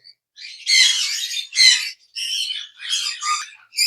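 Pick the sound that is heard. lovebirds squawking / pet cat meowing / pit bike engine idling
lovebirds squawking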